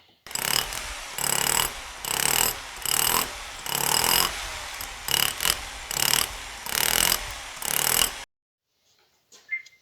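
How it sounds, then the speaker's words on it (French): A power drill bores holes into a wooden log for an insect hotel in about eight loud, gritty bursts of whirring and grinding separated by short pauses, then cuts off into near silence with a faint knock. "maintenant que vous avez percé tous les trous"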